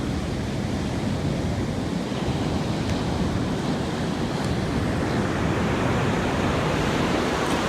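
Ocean surf rolls and breaks continuously on a beach with dangerous waves, a dense, loud roar with wind buffeting the microphone and no voices.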